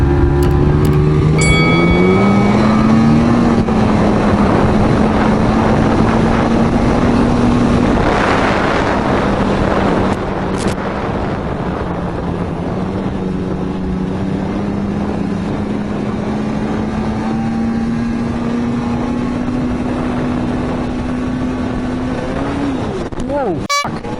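A Ski-Doo snowmobile engine held at high revs near the rev limiter, a loud steady droning whine that climbs and then stays pinned for a long stretch outdoors, with wind buffeting the microphone.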